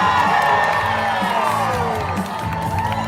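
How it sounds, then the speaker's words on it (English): A rally crowd cheers loudly as former Navy SEAL and Texas Representative Dan Crenshaw is welcomed, with shouts and whoops over a continuous roar that eases only slightly over a few seconds. "and the crowd goes crazy."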